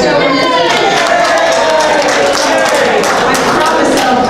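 An audience at a public talk on local road and intersection projects bursts into dense, continuous applause, loud and steady throughout with no gaps, the many hands blending into a wash of crowd clapping.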